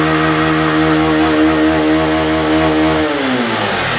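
A Honda Start 160 motorcycle engine is held hard against its rev limiter, giving a loud, steady, close-up buzzing whine that stays level for about three seconds, then drops away as the throttle closes.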